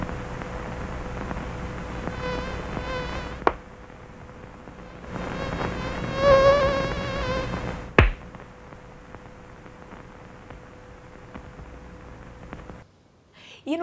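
A recorded sound sped up to mimic a mosquito, giving thin, whining buzzes in two stretches of a few seconds each with a pause between, then a sharp click and a quieter, steady hum.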